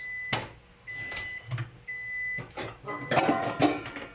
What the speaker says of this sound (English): So that's the microwave reminding me to take out the food in there.